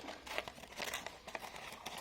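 Christmas wrapping paper is crumpled and torn by hand for a collage, soft close crinkling and rustling with brief tearing bursts, quiet throughout and no talking.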